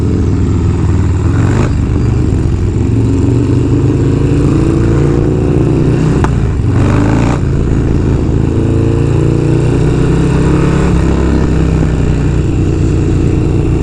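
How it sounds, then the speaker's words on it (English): A Harley-Davidson Dyna or FXR rumbles at a steady cruise, loud exhaust drone mixed with constant wind buffeting from riding on the road, the engine note rising and falling slightly. "we got Mishka in the mix, getting a pretty good amount of wind deflection, getting blasted with some exhaust"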